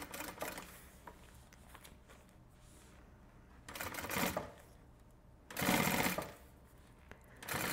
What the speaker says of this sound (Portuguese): eu vou costurar aqui em cima da mesma costurinha que a gente já tinha feito antes. E aqui só vou fazendo o contorno.